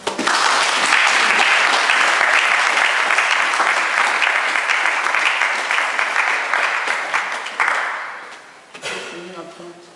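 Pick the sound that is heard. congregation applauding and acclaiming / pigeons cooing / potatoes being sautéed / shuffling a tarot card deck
congregation applauding and acclaiming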